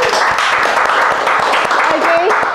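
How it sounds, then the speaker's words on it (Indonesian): Short burst of clapping from a small group at a podcast recording, close and fairly loud, with a voice speaking over it. "Tepuk tangan dulu dong untuk Isal."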